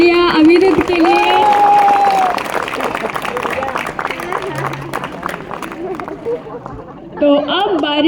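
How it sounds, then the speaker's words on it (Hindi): An audience at an event for the International Day of Persons with Disabilities bursts into loud, sustained clapping and cheering. The crowd noise gradually thins out, and a voice speaks at the start and end. "एक बार जोरदार तालियां अविरुद्ध के लिए।"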